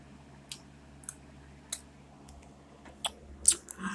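Someone crunching Sugar Cookie Toast Crunch cereal, sparse sharp crunchy bites spaced irregularly over a quiet background, close-miked and growing a little denser toward the end.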